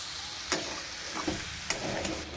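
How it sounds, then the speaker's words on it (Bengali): Mixed vegetables and spices fry in a hot pan with a steady close sizzle, broken by a few sharp scraping stirs at irregular intervals, with no talking. "সবজিগুলো আরো ততক্ষণ ভাজুন যতক্ষণ মশলার থেকে সুন্দর সেন্ট না বের হয়"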